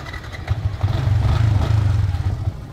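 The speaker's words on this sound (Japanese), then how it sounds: "おお、ナイスバイク。" A motorcycle engine idles close by with a low, steady chugging putter that swells slightly in the middle, heard alone without talk.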